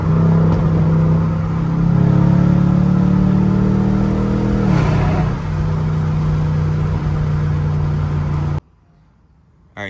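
A fifth-generation Chevrolet Camaro SS V8 fitted with a K&N cold air intake drones steadily from inside while driving, its pitch dipping and recovering at a gear shift before cutting off abruptly near the end.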